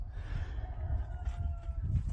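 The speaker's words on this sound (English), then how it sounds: "I hear a rooster." Faint, distant rooster crowing in Tucumcari, New Mexico: a thin, drawn-out call with a gently falling pitch, sitting low beneath steady outdoor background rumble.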